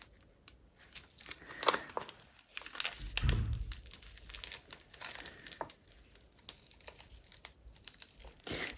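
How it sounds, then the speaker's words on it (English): A gel printing plate is peeled off a sheet of paper, giving soft, intermittent crinkling and sticky tearing rustles at close range with quiet gaps between them. "Peeling the gel plate"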